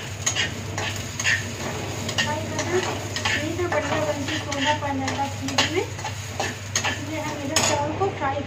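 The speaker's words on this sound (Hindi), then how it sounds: "घी डालने के बाद हल्का सा फ्राई कर लिया चावल को।" Rice being fried in ghee, a low sizzle under busy stirring with repeated scrapes and clinks of a utensil against the pan, plus a faint background voice.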